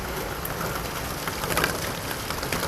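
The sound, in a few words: rain falling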